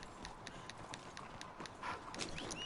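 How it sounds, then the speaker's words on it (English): Horse hooves clip-clop at a steady trot in the Red Dead Redemption 2 video game, fairly faint and mixed with other game sounds, with no clear whinny standing out. "My horse. A horse."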